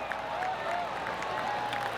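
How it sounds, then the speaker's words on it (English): Polite scattered applause from a golf gallery in PGA Tour 2K23, a soft, steady patter of many hands clapping at a modest level across two seconds, with a faint tonal hum and no talk. "Oh, golf clap."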